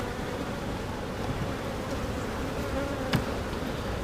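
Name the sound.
honeybees buzzing around an open beehive frame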